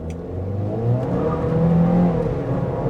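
A 2024 Chevrolet Equinox RS pulls away from a stop, its engine note rising in a smooth, moderately loud drone heard from inside the cabin, steady and without voices.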